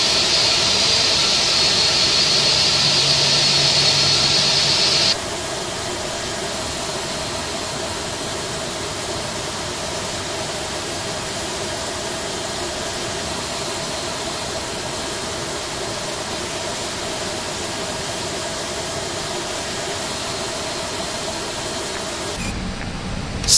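Jet engines of an Airbus A321 in the Prepar3d flight simulator run as a steady, loud roar. A high whine drops away early, and a thump comes at the end. No voices are heard.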